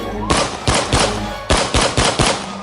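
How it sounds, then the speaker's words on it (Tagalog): A rapid series of loud, sharp gunshots in two bursts, each crack punching out close and hard with brief gaps between. "sunod-sunod na malakas na putok ng baril"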